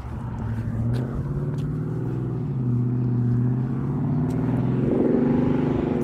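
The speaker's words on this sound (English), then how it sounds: "That's a nice car." A car drives past with a steady, moderately loud engine drone that swells slightly and persists for several seconds in an outdoor street setting.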